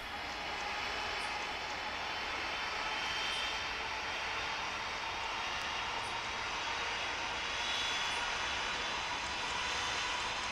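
A FedEx jet airliner takes off from runway 16 at Richmond in the Tower Simulator 3 video game, a steady, unbroken roar of engine noise that holds evenly from start to finish with no voices over it.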